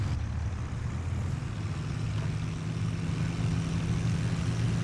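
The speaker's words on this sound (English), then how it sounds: "Let's run up our 2 de Havilland Gypsy 6 inline engines" Two simulated de Havilland Gipsy Six inline engines, 200 horsepower each, run up on a de Havilland DH.89 Dragon Rapide in Flight Simulator X, giving a steady, fairly quiet low drone with no talk.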